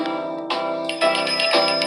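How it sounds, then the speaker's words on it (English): A counter bell in a video game cafe is struck three times in quick succession, each bright metallic ding ringing on briefly. "There is a bell on the counter. I'm ringing it."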